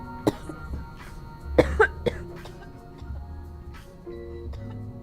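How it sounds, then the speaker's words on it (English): Several rough coughs and a throat clearing break out close up, over a steady ticking and low background hum. "You can hear me coughing."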